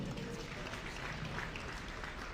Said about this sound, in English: A big round of applause from Denver Council